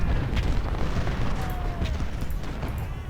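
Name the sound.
artillery firing in the video game Ultimate General: Civil War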